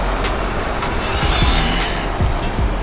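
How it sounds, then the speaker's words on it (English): A car passes on a street at a convention, a steady loud engine drone with road rumble that swells slightly and then holds, with no talk over it. "That sounds like my car."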